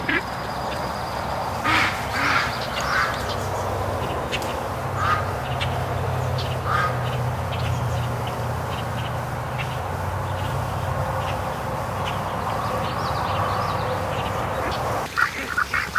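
Muscovy ducks give scattered soft quacks and calls outdoors, near to moderately distant, over a continuous low background murmur lasting throughout.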